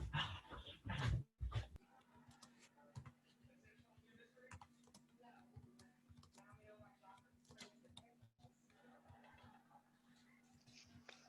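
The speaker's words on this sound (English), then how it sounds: "My dogs are getting restless" Restless dogs stir and whimper faintly indoors, mixed with steady computer keyboard typing and a low electrical hum, after a short burst of voice at the start.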